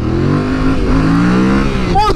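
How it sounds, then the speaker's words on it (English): A motorcycle engine fitted with a Camel ADV high exhaust mount kit and an ECU reflash from Two Wheeled Dyno Works rumbles steadily up close, a deep, continuous idle-like drone that revs slightly near the end. "it sounds especially good with the Camel ADV high exhaust mount kit on it"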